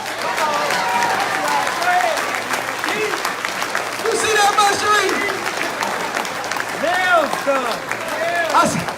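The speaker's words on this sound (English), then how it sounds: "Y'all better clap." Applause and crowd noise rise and fall in a mosque hall during a minister's speech, steady clapping mixed with voices and chatter, while someone talks over it.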